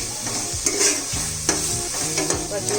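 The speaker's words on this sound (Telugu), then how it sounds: "ఈ పచ్చివాసన పోయేదాకా బాగా ఎర్రగా వేయించుకోవాలి." Ingredients for a pumpkin curry frying and being stirred in a pan, with a close sizzle and several sharp scraping strokes over a short stretch.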